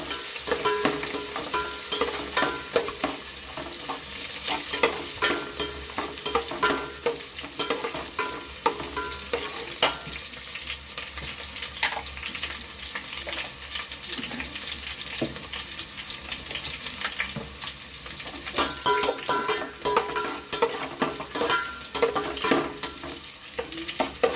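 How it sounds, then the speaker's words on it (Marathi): Chopped onion frying in hot oil for a chicken gravy, a close steady sizzle broken by frequent scraping stirs and clatter of a spoon against the pan, no one speaking. "कांदा चांगला तेलामध्ये लाल होईस्तोवर फोडणीचा चांगला भाजून घ्यायचा।"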